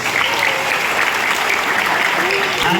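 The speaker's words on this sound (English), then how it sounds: "Come on, everybody, clap your hands." A crowd on a tour in Subic, Zambales claps along, dense and continuous, with some faint voices mixed into the steady applause.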